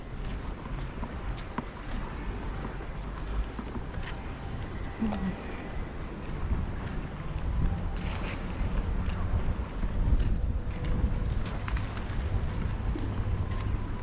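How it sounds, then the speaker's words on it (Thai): Light wind blows at the seaside at a pier head near a resort in Samaesan, where people fish for squid. It produces a continuous low rumble and buffeting on the microphone, with faint background noises mixed in. "วันนี้ลมเบาๆ ลมเบาๆนะ"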